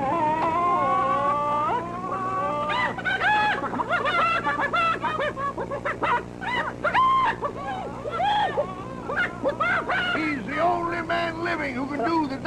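A man imitates a chicken with his voice, producing varied clucks and squawks in bursts, close and loud, with some laughter and talk mixed in.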